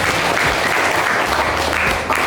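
A classroom audience claps for teachers and observers being introduced at an inquiry-based project learning session, a steady dense wash of applause filling the whole moment at even loudness.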